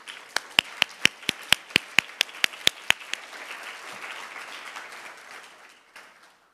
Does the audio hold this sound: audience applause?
yes